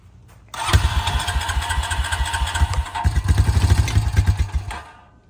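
A 2006 Honda Rancher 350 ATV cranks over after a short click, its engine chugging in rapid, loud pulses for about four seconds before stopping.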